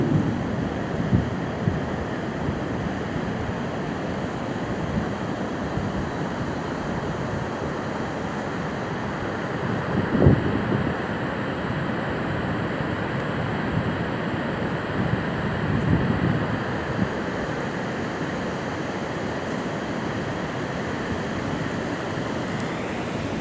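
Sea surf rolls continuously onto Ruínas beach in Peruíbe after a storm surge, a steady roar of breaking waves mixed with wind noise and no talking.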